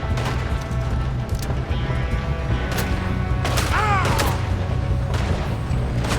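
Gunfire in Red Dead Redemption 2 during a shootout, repeated sharp cracks and booms scattered over a dense, loud background, with a voice briefly shouting amid the shots.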